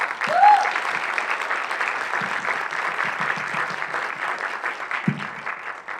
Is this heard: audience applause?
yes